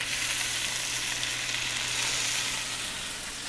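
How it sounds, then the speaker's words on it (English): Turkey meat sizzling steadily in a hot pan for a turkey melt sandwich, a loud continuous frying crackle with no talk. "sizzle, sizzle."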